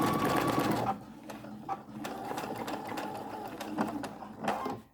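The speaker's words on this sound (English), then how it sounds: "You can just continue to sew all the way down." A sewing machine stitches down a triple-layer washable fabric face mask, a close rhythmic whirring run that pauses briefly and starts again in short bursts, no one speaking.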